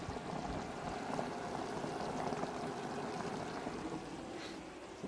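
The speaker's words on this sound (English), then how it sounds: "it's bubbling like mad" Chicken soup boils hard in a pot, a dense, steady bubbling and gurgling that churns without pause at close range.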